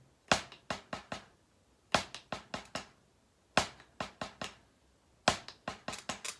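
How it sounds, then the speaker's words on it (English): Right hand tapping a snare drum rudiment on the leg, sharp dry slaps in four repeated groups of five, each group opening with an accented stroke, close and clear with no talking. "I'll play the right hand on my leg so you can hear."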